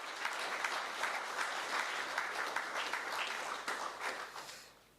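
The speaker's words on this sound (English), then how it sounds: "he really does deserve a round of applause" A crowd at a university sport gala applauds steadily, a dense wash of clapping that holds for several seconds before fading out.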